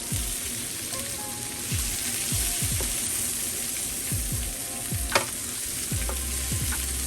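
Homemade burger patties sizzle loudly on a hot griddle in a steady, crackling hiss, while a spatula scrapes and pushes the meat across the surface in repeated short strokes.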